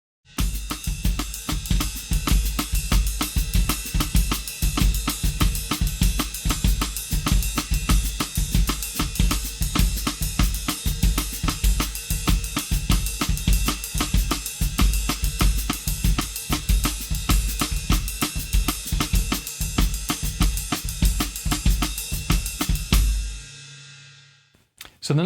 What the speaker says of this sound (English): Now I'm going to play it on the ride cymbal.